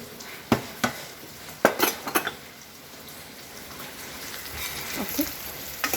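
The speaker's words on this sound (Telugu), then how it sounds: "మళ్ళీ కొంచెం కలిపేసుకొని" Lentil dal being stirred in a pot for pappu chaaru with vegetables, with a few sharp spoon knocks against the metal rim early on, then a softer, steady scraping and simmering texture.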